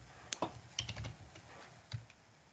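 A computer keyboard being typed on nearby, a handful of quiet, irregular key clicks with short pauses, no talking.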